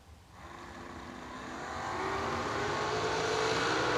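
A Camaro and a dragster launch down a drag strip, their engines roaring and building steadily in loudness as the cars pull away, with no talk over the run.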